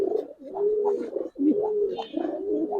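A pair of Giribaz pigeons coo close by in a series of soft, throaty, rolling calls with short breaks between them, and no voices over them.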